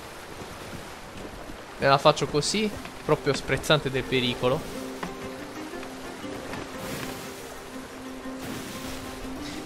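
A sailing ship in the Sea of Thieves video game surges through the sea. Wind and waves rush continuously beneath a voice speaking close up.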